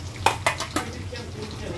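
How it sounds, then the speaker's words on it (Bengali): Oil sizzles and spits as fish fries in a pan, with a few sharp crackling bursts near the start over a steady frying hiss. "ভাজা করছি, ভাজা করে রেখে মেয়েকে আনতে যাবো"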